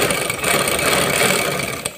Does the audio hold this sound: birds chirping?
no